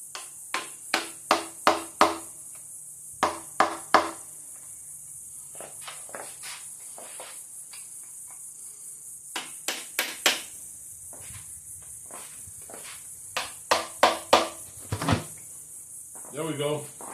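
A cheap chisel struck with a hammer against an engine, sharp metallic taps in quick clusters of three to five, with quiet gaps between bursts and a steady high hiss underneath.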